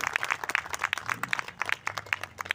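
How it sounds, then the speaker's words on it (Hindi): A small group claps steadily for a few seconds at a political party's celebration of Emperor Ashoka's birth anniversary, quick uneven hand claps at moderate distance with no voices. "तालियां।"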